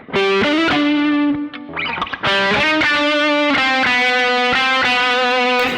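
An electric guitar plays a sustained lead through a NUX Trident multi-effects unit into an amp's dirty channel with a boost, producing a thick, distorted, harmonically rich tone with held notes and a brief pick scrape in the middle.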